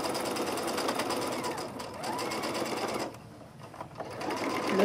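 A sewing machine runs close up, stitching a few reverse stitches to lock the start of a seam a few centimetres from the fabric edge; the steady motor whir pauses briefly about two-thirds through, then resumes.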